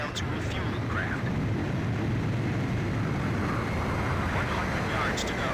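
Steady jet engine roar of a fighter aircraft closing on a refueling plane in the Ace Combat 5 combat flight game, a constant loud drone throughout with faint radio voices in the background.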